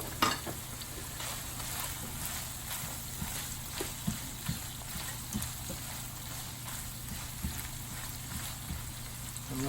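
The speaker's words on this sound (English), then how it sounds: "So we're going to stir this." Ground beef with onion and garlic fries in a pan for keto lasagna, a soft, steady sizzle marked by light, regular stirring scrapes, fairly quiet and without speech.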